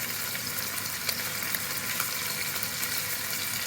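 Meat for an Italian spezzatino stew browns in a frying pan, giving a steady, dense sizzle and crackle with a few sharper pops, close and continuous throughout, with no voices.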